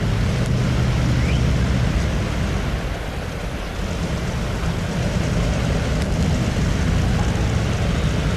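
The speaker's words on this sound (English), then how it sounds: "This engine is a V12 Packard motor on board, a Packard engine, twin turbocharged on the starting line." A twin-turbocharged Packard V12 engine idles and rumbles at the starting line of a tractor pull at a farm machinery show, a loud, steady low roar with broadband noise and a slight dip midway.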